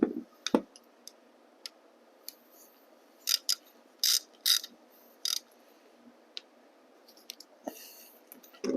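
A hand ratchet clicks in short separate bursts while tightening a suspension bolt during a spring swap on a Luna electric bike, with sharp metallic pawl ticks and pauses between strokes in a quiet room.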